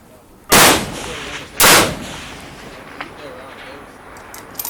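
A rifle fires twice at a steel plate target, about a second apart, each shot a loud close crack with a long rolling echo, followed by faint distant ticks while people talk.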